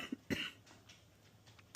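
Two short coughs from a person with an irritated throat, close and fairly quiet, the first a small burst and the second stronger, followed by soft room sound with a faint noise at the end.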